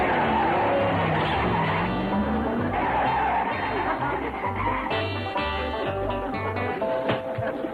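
A truck tears away with a loud, sustained tire squeal and skidding that stays close and prominent for several seconds, with engine noise beneath and no talking.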